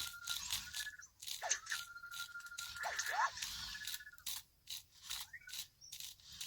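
Dry, gritty crunching and grinding from the damaged rear differential gears of an Arrma Kraton EXB RC car turning in uneven bursts, close up, with brief scraping clicks and no talking.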